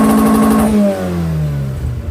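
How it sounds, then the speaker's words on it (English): A Skoda 120 16V engine revs as the throttle pedal is pressed, a loud, close rising whine that then falls away smoothly as the revs drop back. "let's just try my throttle pedal"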